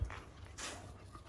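An American bully dog in a kennel gives a brief, faint whimper with soft breathy sounds, heard up close for just over a second.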